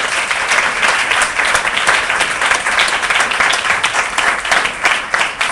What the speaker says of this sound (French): Est-ce qu'ils peuvent s'acclamer très fort?